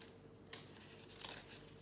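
A paper bag being torn by hand into strips, giving a few quick rough ripping bursts at close range in an otherwise quiet room, with no voices.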